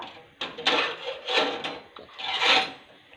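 A spoon stirs a homemade toothpaste mixture for whitening teeth in several quick, close, scraping strokes with short pauses between them, and no voices.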